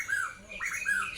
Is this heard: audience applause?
no